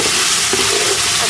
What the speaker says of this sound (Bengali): রসুনটা একটু হালকা ভাজাটা নিই প্রথমে